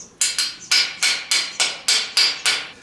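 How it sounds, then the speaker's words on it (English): A slag hammer chips slag off a fresh weld from a handheld portable welder, eight sharp metallic strikes in a quick, fairly even rhythm, close and loud, with a brief ring after each hit and no talk. "Once again, we'll take our slag hammer."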